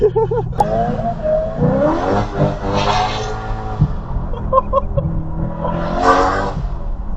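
A BMW E92 M3 engine revs hard and loud throughout, its pitch climbing and falling through several sweeps with a strong throaty drone, and faint voices sit underneath.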